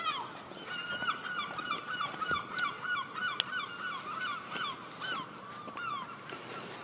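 Several gulls call repeatedly outdoors on a walk, their honking cries overlapping at moderate distance against steady ambient background, with no talking.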